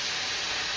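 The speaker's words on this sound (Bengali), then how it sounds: "আর এইখানে ভাত টকবক করে ফুটছে" Rice boiling vigorously in a pot on a home kitchen stove, a steady close bubbling hiss that fills the short moment without any voices.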